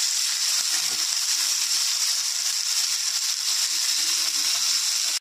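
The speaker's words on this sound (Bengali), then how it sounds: "দেবো আলু, ভালো করে ভেজে নেব।" Potatoes frying in oil in a pan give a steady, loud broadband sizzle that runs unbroken for the whole stretch, with no voices over it.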